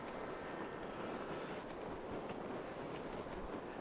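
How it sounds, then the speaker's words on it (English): A train rolls past in the video game Gfred, a dense, steady rumble and rail clatter that fills the whole stretch without a break, with no talking. "Train underneath if we need it."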